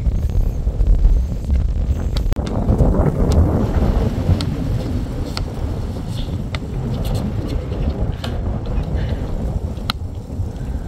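Loud, steady wind roars and buffets the microphone outdoors in cold Canadian weather, with a deep rumble throughout and occasional faint clicks and knocks.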